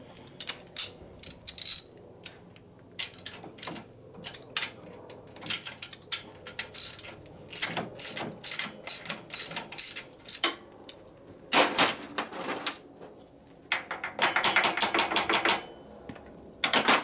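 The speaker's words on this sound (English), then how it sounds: "So we'll tighten these clamps up here at least a little bit" Metal clamps on a 1958 Harley-Davidson 74ci panhead engine are tightened with a ratchet, making rapid bursts of close clicking and ratcheting with short pauses between turns.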